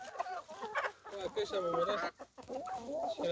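Chickens and roosters clucking close by, several birds calling over one another in a continuous busy stream, loud and alone with no talk, at a farm selling Lohmann Brown laying hens.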